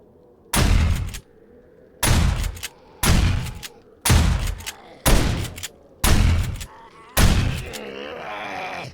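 Gunfire in the 7 Days to Die video game: seven loud, heavy shots spaced roughly a second apart, each a sharp blast with a brief ringing tail, the last trailing into a low groan.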